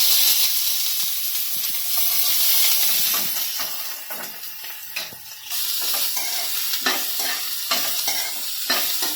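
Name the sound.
onions frying in hot oil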